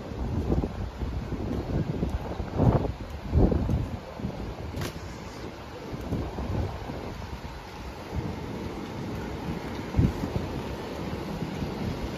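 Wind gusts buffet the microphone on a private beach at Mandarmani, with surf rumbling underneath in uneven swells and a few sharp knocks, no voices.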